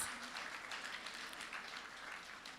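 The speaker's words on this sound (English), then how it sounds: "Please give our president a round of applause." Crowd applause for the president at an outdoor farmers' day and livestock exhibition, a continuous wash of clapping from a large audience, quite faint and distant, steady without speech.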